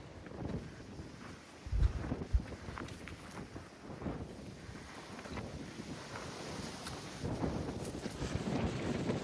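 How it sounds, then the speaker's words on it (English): Strong wind buffets the microphone in rough, uneven gusts, with a couple of sharp low thumps early on; no voices. "It's just so darn windy right now."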